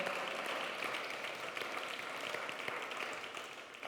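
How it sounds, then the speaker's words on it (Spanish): A church congregation applauds during a sermon, with sustained clapping from many hands at moderate distance, fading slightly toward the end. "Dale fuerte el aplauso, hermano, no te quedes con las ganas"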